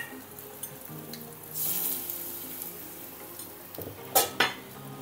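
Fenugreek and asafoetida powder hit hot oil in a pan and give a soft sizzle, followed by sharp metal clinks of a spoon against the vessel, heard close with no talking.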